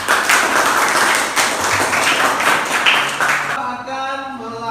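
A classroom full of students applauding, a dense burst of clapping that continues steadily for a few seconds before stopping abruptly, followed by a short electronic chime.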